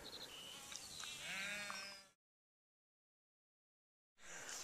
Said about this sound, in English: We still have all the goats and the sheep